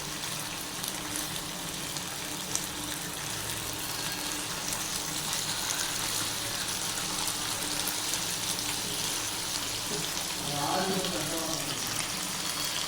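Fish frying in a pan in a home kitchen, a steady close sizzle and hiss under soft talk throughout.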